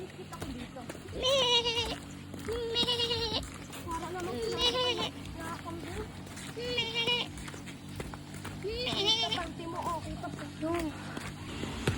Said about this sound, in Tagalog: Uy, may tupa oh.